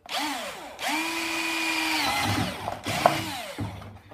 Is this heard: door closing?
no